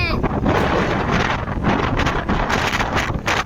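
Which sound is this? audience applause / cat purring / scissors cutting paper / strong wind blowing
strong wind blowing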